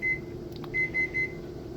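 Kitchen timer going off while potato chips fry on the stove: four short, high electronic beeps in a quick row over a low, steady hum.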